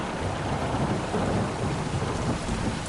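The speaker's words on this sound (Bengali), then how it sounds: "কিন্তু গ্রামে ঢোকার মুখে আবারও মুষলধারে বৃষ্টি শুরু হলো।" Heavy downpour pounds steadily over a village, with low thunder rumbling through the dense, continuous roar of rain; no voices.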